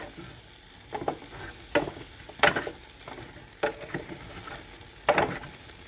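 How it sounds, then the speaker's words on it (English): Honey hickory chicken bites sit in an air fryer basket and get stirred, with about five distinct scraping, rattling strokes spaced roughly a second apart over a low background hiss. "I'm going to give it a stir"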